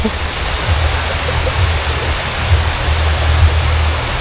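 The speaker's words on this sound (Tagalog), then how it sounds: "Ayan, umuulan dito." Steady, loud rainfall hisses without a break, a dense wash of drops falling close by with no voices.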